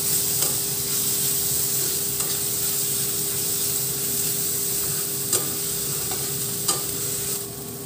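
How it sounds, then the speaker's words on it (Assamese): Spices and ginger fry steadily in hot oil for a tangy fish curry, a continuous close sizzle with occasional stirring scrapes and clicks from the pan, no voices. "এইখিনি দিওঁ মই অলপ সময় মছলাখিনি এতিয়া মই ভাজি ল'ম"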